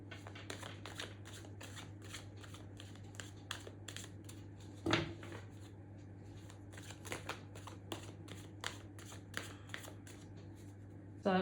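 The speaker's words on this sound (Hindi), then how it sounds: "मैं सारे कार्ड्स निकाल के ही आपको बताऊंगी" Tarot cards are shuffled and drawn in a quiet room, with soft repeated riffling and flicking of the cards alongside a steady low hum and occasional light clicks.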